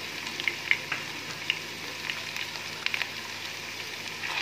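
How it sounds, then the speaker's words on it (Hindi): Sliced onions frying with garlic-ginger paste and green chillies in a pot for degi yakhni pulao, giving a soft, steady sizzle with faint crackles and a few small pops throughout, with no talking. "और लीमू के स्लाइस डालकर अच्छी तरह आप इन्हें फ्राई करें।"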